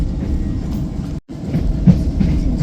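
A train running on the rails, probably on a London trip, gives a steady low rumble with clickety-clack rhythm, near and continuous apart from a brief dropout in the middle.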